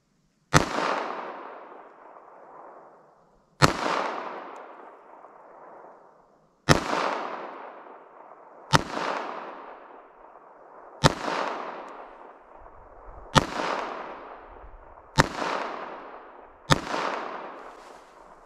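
Eight loud, sharp shots from a Smith & Wesson Shield EZ 2.0 .380 ACP pistol, spaced a couple of seconds apart, each followed by a ringing echo.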